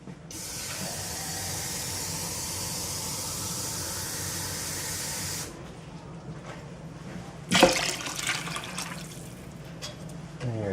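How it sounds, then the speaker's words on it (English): Tap water pours in a steady hiss into a pot of beans for several seconds, then stops; a short sharp clatter of the pot follows, with quieter kitchen handling sounds after. "let me add a little bit more water."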